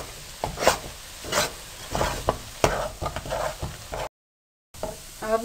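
Makhadi halwa being stirred and roasted in a pan, with repeated scraping strokes and a soft sizzle in uneven bursts up close, then a brief gap before the stirring resumes.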